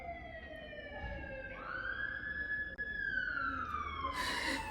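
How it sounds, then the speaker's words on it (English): Emergency vehicle sirens wail through New York City streets, a loud rising and falling tone sweeping over a steady rumble of traffic and holding for the whole stretch with no talk. "You hear the sirens? That is New York for you every 5 minutes."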